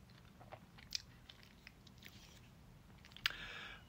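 Someone eats a vegan french fries potato salad with tomatoes, making faint, close, soft chewing with a few brief crunchy bites and no talk.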